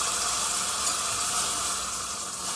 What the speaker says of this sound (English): now I'm pouring in the chicken broth. I'll start whisking it around.